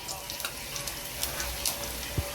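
Mustard seeds and cumin sizzle in hot oil in a kadai, a steady crackling hiss with scattered small pops and one sharper spit near the end, close and moderately loud.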